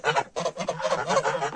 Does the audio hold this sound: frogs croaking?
no